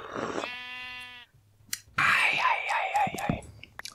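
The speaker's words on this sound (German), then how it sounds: "Die Schafe" Sheep in the video game Minecraft bleat twice, a short wavering cry followed by a longer, louder quavering bleat, close and clear with a faint low hum beneath.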